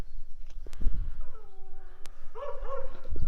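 Dogs out in a rural paddock give short yips and whining, whimpering cries, a few scattered barks with wind or handling noise, close by.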